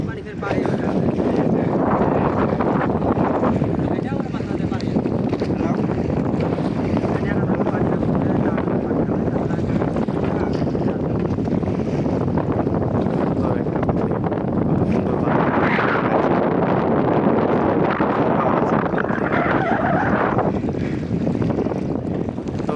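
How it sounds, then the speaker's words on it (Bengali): Steady, loud wind rushing past with water churning beneath as a tarpaulin-sailed boat moves briskly across the waves of the Padma River, with no pause in the roar. "তিরপালের মাধ্যমে বাতাসের সাহায্যে নৌকাটা আগাচ্ছে খুব সুন্দর অনেক জোরে চলছে নৌকাটা"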